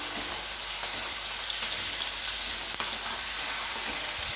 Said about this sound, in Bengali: আমি এখানে মশলাটা কষিয়ে নিচ্ছি